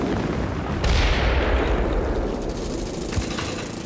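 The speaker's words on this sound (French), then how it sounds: "il a tout simplement fait exploser une colline" A rocky hill blasted apart with explosives to carve out storage cellars for cheese in France: a sudden loud boom hits just under a second in, followed by a long rumbling roar of falling rock and debris that slowly fades.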